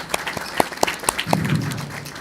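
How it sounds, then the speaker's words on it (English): Conference attendees give a short round of applause: a handful of sharp, separate claps that fade out quickly, with a low murmur of voices underneath. "a big round of applause"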